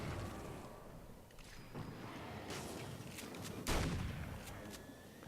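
Scattered shots and impacts from Alan Wake's American Nightmare, a few quiet bangs spread over a steady background with one stronger hit in the middle, no voices.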